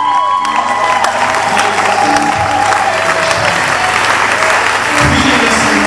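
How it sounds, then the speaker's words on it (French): A church congregation applauds at a French-language service, with dense, loud, sustained clapping and some crowd voices and cheers mixed through the whole stretch. "Lève-toi et acclame le Seigneur Jésus."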